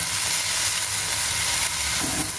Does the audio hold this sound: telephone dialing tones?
no